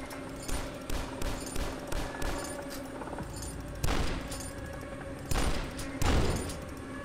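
Rapid bursts of gunfire crack in the retro shooter game Dusk, a rhythmic series of sharp shots with heavier blasts near the end, loud and close.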